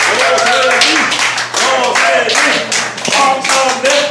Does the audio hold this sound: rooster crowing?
no